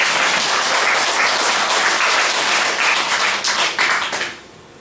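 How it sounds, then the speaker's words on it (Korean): A church congregation at a summer retreat service applauds the retreat team with loud, dense clapping that holds steady for several seconds, then quickly dies away. "우리 수련회 팀에게 다시 한번 박수 한번 주시기 바랍니다."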